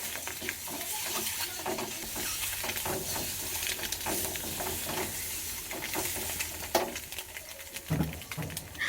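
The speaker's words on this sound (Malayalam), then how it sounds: "നമ്മുടെ മുട്ട ഇതിലൊന്നിട്ടിട്ട് ഒന്ന് മസാല എല്ലാം ഒന്ന് ആക്കിയിരിക്കണം കേട്ടോ ഒന്ന് ചെറുതായിട്ടൊന്ന് ഫ്രൈ ആക്കിയിരിക്കുകയാണ്" Eggs fry in oil with chili powder masala, a steady close sizzle and hiss with scraping stir strokes and occasional utensil knocks, no talking.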